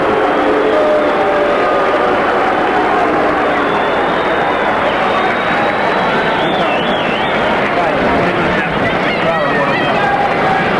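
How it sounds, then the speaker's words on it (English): A 1983 heavyweight boxing crowd murmurs and calls out between rounds of Larry Holmes vs Lucien Rodriguez, a dense, steady arena hubbub with scattered shouts and whistles throughout. "You hear the reaction from the crowd. They want more action."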